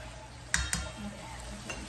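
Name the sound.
chickpea taco filling cooking in a pan and being stirred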